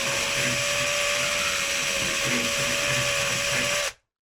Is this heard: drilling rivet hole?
yes